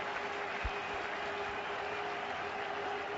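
Crowd applause at a cricket ground in Chester-le-Street, England, for a batsman's century against England in 2002, a steady distant wash of clapping with a low hum and a few faint thumps.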